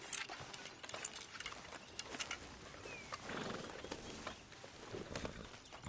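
A horse in the Red Dead Redemption 2 video game clops along with soft, rhythmic hoofbeats and occasional snorts or a whinny, faint and steady with ambient outdoor game sound and no speech.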